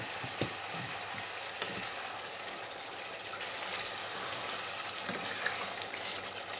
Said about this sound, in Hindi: तेल डाल के इसको भूनेंगे।